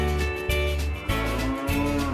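A cow moos in several long, low, drawn-out calls, close and fairly steady, with brief breaks between them.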